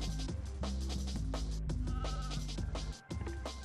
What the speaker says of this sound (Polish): Słyszę owce. Biegnę do nich.